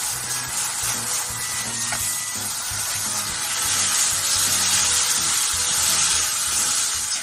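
Bean sprouts and cheese sizzle steadily in an open pan, a dense, even crackling hiss that holds at a constant close level for the whole stretch with no talking.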